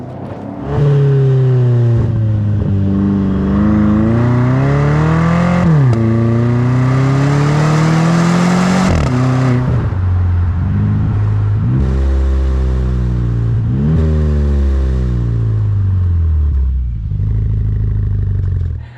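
A BMW turbocharged V8 revs hard through its exhaust before an X-pipe is fitted, rising and falling in repeated loud, close sweeps with sharp throttle blips and no talking.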